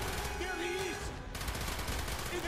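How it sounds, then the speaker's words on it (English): Rapid gunfire in a Call of Duty: Black Ops campaign mission, dense and loud bursts running the whole way through with a brief dip midway, a voice faintly mixed in. "I'm shooting my own people."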